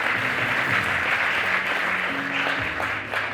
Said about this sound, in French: Acclamez le Seigneur pour ce qu'il fait.